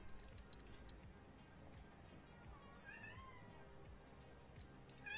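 A cat meows over steady background noise, with a couple of short, faint, rising calls partway through at moderate distance.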